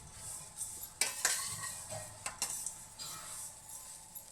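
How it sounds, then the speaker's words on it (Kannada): Poha snack mixed in a bowl with a pinch of asafoetida powder: soft rustling and scraping strokes of a spoon, with occasional clinks against the dish, close and quiet. "ಇದನ್ನು ಇವಾಗ ಕಲಿಸ್ಕೊಂಬಿಡೋದು ಚೆನ್ನಾಗಿ"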